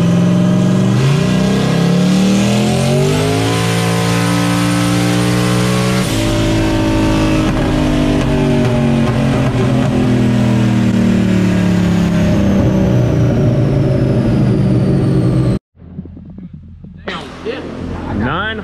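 A turbocharged car running 18 psi of boost screams through a dyno power pull, its loud engine rising steadily in pitch for about fifteen seconds before cutting off abruptly, followed by a brief quieter burble and whoosh.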